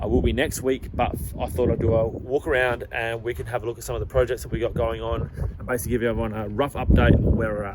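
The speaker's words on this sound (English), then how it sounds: "excuse the wind, it is a little windy here" Wind buffets the microphone with low rumbling gusts under someone talking continuously outdoors.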